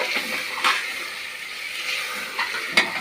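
Ginger, garlic and green chilli paste fry in a pan with a steady close sizzle, broken by a few sharp scraping stirs of a utensil against the metal.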